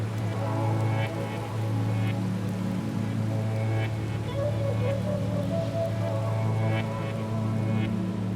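Steady rain pours for a sleep soundscape, a dense continuous hiss with a low rumbling bed and faint scattered drips, unbroken and even throughout.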